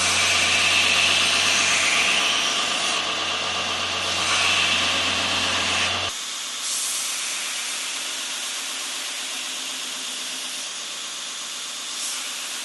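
A belt grinder with an 80 grit belt sands a knife blade for a satin finish, making a loud, continuous abrasive hiss. The pitch and pressure shift partway through as the blade is repositioned.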